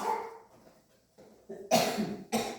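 A couple of short, sharp coughs ring out after a quieter stretch, faint and somewhat distant.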